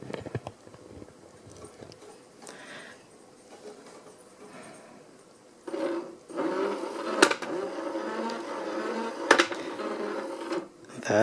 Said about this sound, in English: That is the sound of force feedback